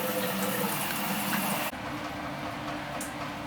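Shower head on a stream setting rinsing an aquarium baffle filter: a steady, close hiss of spraying water that drops abruptly to a quieter, softer flow partway through.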